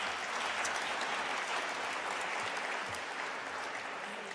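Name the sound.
audience applause at an awards ceremony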